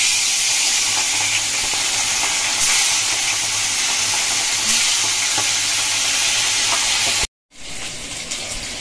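Potatoes fry in hot oil beside a cumin tempering in a home kitchen, giving a dense, continuous close sizzle and hiss that runs steadily, briefly cuts out, then resumes at full strength.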